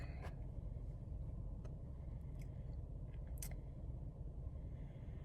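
Quiet car interior with a low steady engine and road rumble, plus a few faint small clicks and rustles, with no talking.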